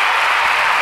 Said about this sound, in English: Wait, where's my crowd clap? I know it's in here somewhere.